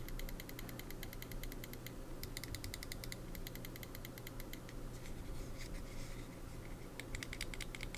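Computer mouse side buttons are clicked in quick, faint, tactile bursts of light ticks, grouped in short clusters with brief pauses, close and quiet, no talk.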